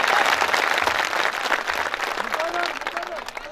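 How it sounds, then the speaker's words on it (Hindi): Steady clapping from an audience at a mushaira poetry gathering in Parbhani, moderately loud and continuous throughout, with a voice briefly audible underneath. "एक बार सबसे मजबूत तालियां"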